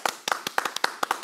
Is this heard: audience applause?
yes